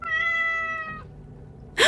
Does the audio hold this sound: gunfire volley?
no